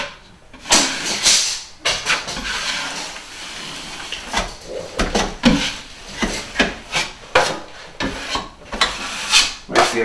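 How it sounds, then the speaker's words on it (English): A metal taping knife wipes drywall mud over joint tape on a wall, a close scraping swish in repeated outward strokes with short gaps and no talking. "now what we're gonna do is we're gonna wipe the tape."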